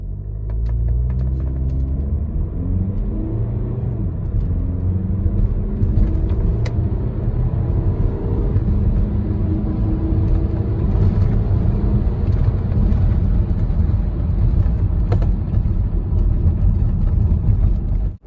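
A 2014 Audi Q5 2.0 TDI diesel accelerates hard, heard from inside as a loud, steady low engine drone with rising tones and road rumble, with no talking.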